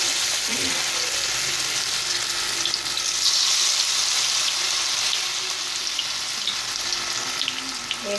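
Pakoras frying in hot oil in a kadai, a continuous loud bubbling sizzle close by, with a brief splash-like burst early as batter drops in, no talking.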